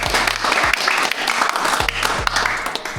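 An outdoor crowd at an adventure rally in the Estonian forest applauds the organizers who prepared the motorcycle tracks, with steady dense clapping throughout and low thumps under it.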